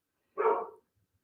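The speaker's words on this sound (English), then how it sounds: "Sorry, guys, my dog's barking" A single dog bark rings out close by in a quiet indoor setting, one short loud burst with nothing else around it.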